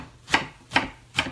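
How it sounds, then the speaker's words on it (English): A knife chops through the end of a bok choy on a cutting board, three crisp, evenly spaced cuts ringing out close and distinct over a quiet kitchen background. "then we're gonna cut up the bok choy"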